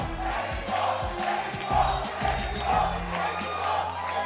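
A large crowd at a Gears of War esports tournament in Mexico cheers and whoops in rolling waves, the roar rising and falling in a big indoor space, with a voice or two shouting over it.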